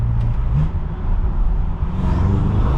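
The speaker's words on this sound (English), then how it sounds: "I don't know if you guys can hear those turbos or not, but wow!" A BMW M6 with turbos revving loudly up close, a deep engine roar with rising and falling swells and a whooshing turbo whir toward the end.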